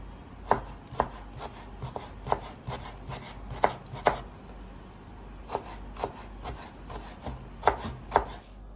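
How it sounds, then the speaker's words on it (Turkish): Quick knife chops finely cutting tomatoes on a cutting board, sharp taps in uneven bursts with short pauses, close and clear with no talking. "Böyle bakalım ufak ufak kesiyoruz."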